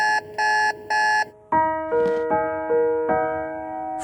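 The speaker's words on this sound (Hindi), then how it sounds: "शुक्र है कि खुदा का मैंने अलार्म सेट किया हुआ था" An alarm clock goes off with three short, even electronic beeps, then switches to a looping melodic chime pattern that keeps ringing, loud and close with no voices.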